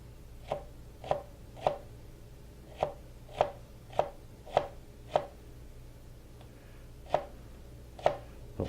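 Jalapeños sliced narrowly with a knife on a cutting board make about a dozen crisp, close chops at an irregular, unhurried pace, each a sharp thock with a short pause between, over a quiet background.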